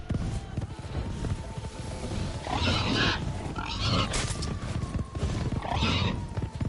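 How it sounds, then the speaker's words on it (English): Several pigs grunting in The Witcher 3, repeated snorting grunts in short bursts over steady game ambience and music, close and fairly loud. "So many stinking pigs."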